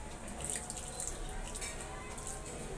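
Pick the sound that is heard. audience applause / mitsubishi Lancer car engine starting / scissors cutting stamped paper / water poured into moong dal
water poured into moong dal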